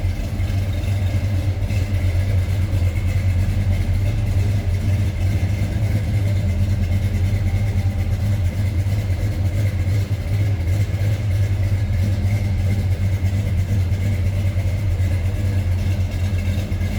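A 1970 Chevrolet K10 4x4 pickup with a 350 small-block V8, Edelbrock four-barrel carburetor, HEI ignition and automatic transmission, idling with a deep, steady low rumble and loud, even burble throughout, no voices.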